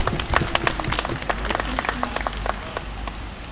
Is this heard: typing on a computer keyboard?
no